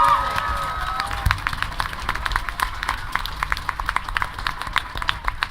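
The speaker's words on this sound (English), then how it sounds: "let's give a round of applause to the Canterlot Gardens staff" An audience at a voice actor panel at the Canterlot Gardens 2012 convention claps and cheers, with rapid scattered claps and crowd noise; brief whistles or shouts come early on.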